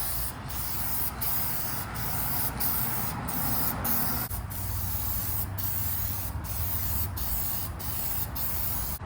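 Continuous spray paint hissing steadily for the whole stretch, close and loud, with brief rhythmic pauses as the can is swept back and forth over a Yamaha F25 outboard motor cowling.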